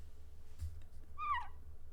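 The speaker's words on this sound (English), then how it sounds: "She makes she opens her mouth and like the chirping noise comes out again" A dragon in the Dragonhaven video game gives a single short, high warbling chirp that rises and falls, heard alone over a quiet low hum.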